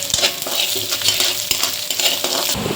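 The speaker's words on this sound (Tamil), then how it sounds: "இப்போ இதில் வெங்காயம் போட்டு உப்புக்குள்ளேயே ஒரு பிஞ்ச் போட்டு வதக்கிடலாம்" Onion with a pinch of salt sautéing in a pan, a continuous bright hiss of frying with occasional metallic clinks and scrapes of a spoon against the pan.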